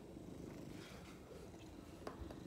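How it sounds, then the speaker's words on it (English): A cat purrs close up in a soft, steady rumbling rhythm that stays quiet and continuous, alone without talk. "You're a wonderful cat, Socks."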